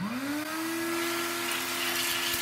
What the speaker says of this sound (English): The portable vacuum cleaners are very good because they got a reverse, so you can blow the air out.